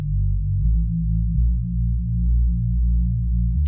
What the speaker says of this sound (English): a bass from Spire, and sounds like this on its own.